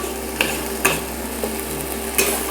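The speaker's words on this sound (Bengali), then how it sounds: "আর মশলা এখন কষানো চলছে" Ground spice paste sautéing in a pan for a sea fish curry, with a steady sizzle broken by a few sharp scraping strokes of a spatula, close and fairly loud.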